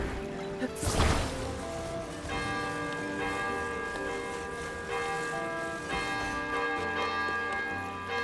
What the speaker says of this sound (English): That bell's a disappointment.